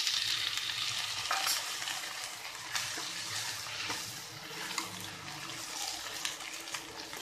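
Tomatoes tossed into frying onions for gram flour chutney, a continuous sizzle and bubbling hiss broken by scraping stirs and clinks of a spoon against the pan.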